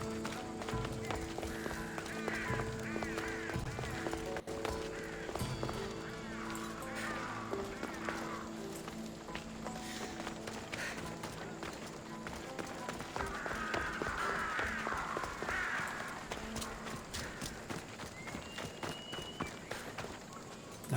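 Horse hooves clip-clopping in the Assassin's Creed Odyssey video game as the horse moves through the city of Athens, a continuous rapid rhythm of hoofbeats under game music and ambient noise.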